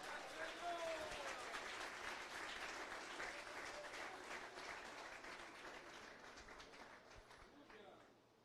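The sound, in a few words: congregation applauding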